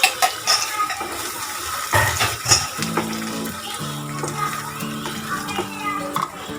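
Spinach and paneer mixture being stirred in a pan, with steady scraping and soft wet stirring sounds and a few clinks of the utensil against the pan, mid-loud and close.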